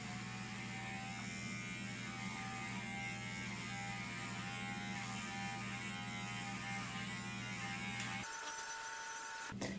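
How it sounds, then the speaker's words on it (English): Electric clippers shaving a dog's coat during summer grooming, a steady high-pitched buzzing hum running continuously and evenly, then cutting off abruptly near the end, leaving a brief different mechanical noise. "we're just going to shave her off because we don't need all this hair in the summer"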